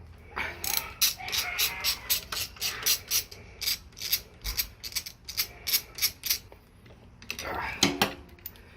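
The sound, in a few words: ratchet removing handlebar mounting bolts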